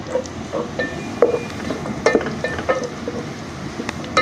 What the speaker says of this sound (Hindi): हमने इसमें लहसुन अदरक का पेस्ट शामिल कर दिया।